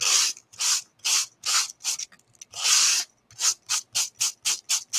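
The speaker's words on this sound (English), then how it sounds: "When you use your sanding block, it's going to sand" Sanding block rubbed back and forth across a wooden plaque, giving a dozen rhythmic scratchy strokes, some long and some short and quickening, close up with no talk.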